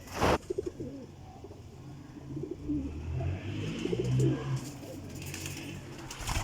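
Pigeons coo repeatedly in soft, rolling calls, several birds overlapping close by, with a few sharp clicks and light rustling around them.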